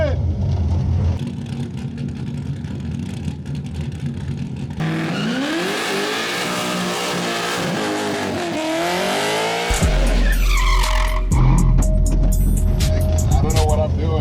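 A car doing a burnout at a burnout school, its engine revving hard with tires squealing and skidding, the roar shifting pitch and surging louder near the end, with people talking over it.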